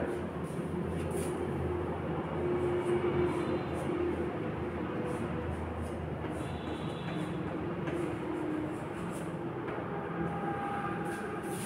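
An electric train rolls along with a steady low rumble and faint rhythmic wheel clatter, heard from inside or close by, with brief higher squeals and a continuous background roar.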